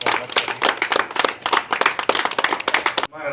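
A standing audience at a live gathering in Jabalpur claps loudly and energetically, a dense, close burst of hand claps that stops abruptly near the end.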